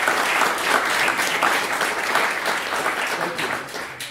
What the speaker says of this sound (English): Shall we do an applause for him?